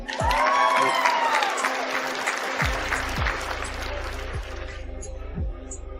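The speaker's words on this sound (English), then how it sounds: "Give her a round of applause, please, Annie." Participants in an online video call clap, a dense burst of applause heard through compressed call audio with a low throbbing hum and a voice briefly over it, fading toward the end.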